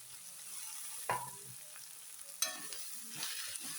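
Tomatoes go into a pan of frying ingredients for a pork dish. A quiet background sizzle is broken by two sharper bursts of hissing and stirring clatter, then the frying settles into a soft crackle.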